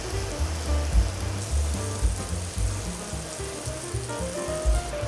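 Filet mignon searing in olive oil in a cast iron skillet over medium-high heat gives a steady, dense sizzle with crackling spits throughout, close and fairly loud, with no voices.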